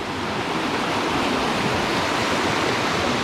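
A clear, transparent river runs through a Patagonian forest in light rain, giving a steady, loud, broadband rushing flow with no pauses.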